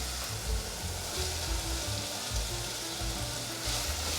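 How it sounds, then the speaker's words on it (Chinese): Dried tofu skin and mushrooms stir-fry in a pan with a soft, steady sizzle and crackle. Low, repeated scraping and stirring strokes of the spatula sound close by, and no one speaks. "皮丝放下来，这样炒一炒就闻到好香了"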